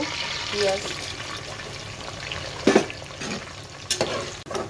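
Onion drops into hot oil with whole cardamom, cinnamon, cloves, peppercorns and bay leaf, giving a steady sizzle broken by a few louder stirring clatters, close and without talk.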